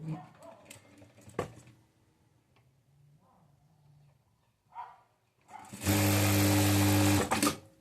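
Sewing machine stitching a blouse back neck, a short loud motor run near the end after quiet handling clicks and faint bumps earlier.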